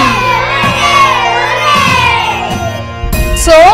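A group of children cheering hip hip hooray for a classmate, loud drawn-out shouted chant in unison, close and lively, ending with a rising whoop.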